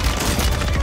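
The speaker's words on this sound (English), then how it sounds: "Fucking mortar." A mortar strike in a first-person shooter video game lands as a loud, dense burst of explosive rumble and crackle filling the whole short moment, with no talk over it.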